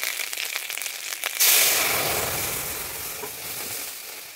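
Turmeric and ginger paste dropped into hot oil for a Bengali moong dal with vegetables bursts into a loud, steady sizzle that slowly fades, after a quieter stretch of stirring.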